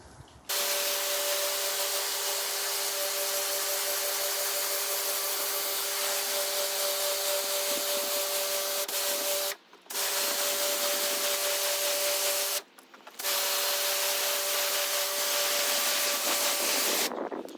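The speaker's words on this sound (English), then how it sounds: "So I'm just going to hose it off and see how clean that actually did." Nilfisk 200 pressure washer spraying a driveway clean, a steady loud hiss of high-pressure water with a constant motor whine underneath, cutting out briefly twice as the trigger is released and resumed.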